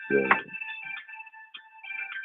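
A telephone ringtone plays on a morning radio show, a steady electronic tone with sustained harmonic notes, preceded by a brief burst of a voice.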